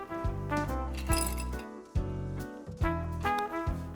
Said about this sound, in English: First, add some ice cubes into a glass.